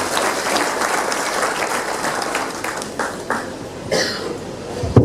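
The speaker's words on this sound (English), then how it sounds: "Big round of applause to all of you." Parents give a big round of applause at a kindergarten school performance day, dense sustained clapping from a crowded hall, loud and close, with a cough and some murmuring near the end.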